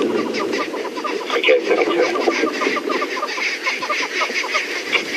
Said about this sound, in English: So you can hear how upset all the other birds were